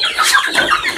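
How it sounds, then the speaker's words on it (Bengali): Native chickens cluck in the small cage compartments of a low-budget poultry farm, with a few loud, close, choppy clucks in quick succession and no voices. "সব মুরগি প্রতি খোপে খোপে মুরগি।"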